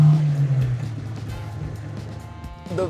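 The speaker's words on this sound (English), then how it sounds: "great sounding engine, seriously." A 1965 Volvo P1800S engine runs with a low, steady rumble that fades slightly, then picks up with a short rev at the end, close and fairly loud.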